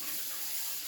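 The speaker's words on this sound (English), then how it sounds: "I have a bowl of water over here that I'm just throwing it into and clean my fingers off." Water splashes and swishes steadily in a bowl as fingers sticky with sourdough are rinsed, a brief continuous wet rushing close by.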